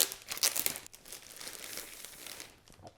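Steam Deck packaging crinkles and rustles as it is unboxed, close bursts of plastic crumpling, loudest at first and then settling into softer handling noise.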